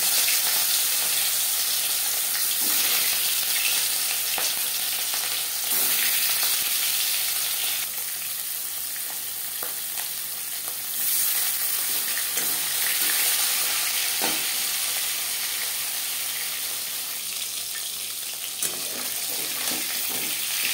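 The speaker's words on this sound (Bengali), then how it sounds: "4 চামচ রিফাইন্ড অয়েল গরম করে নিয়েছি। এবার দিয়ে দেব ম্যারিনেট করে রাখা মাছ।" Marinated rohu fish pieces frying in hot refined oil in a pan, a steady loud sizzle and crackle running throughout with occasional stirring clinks.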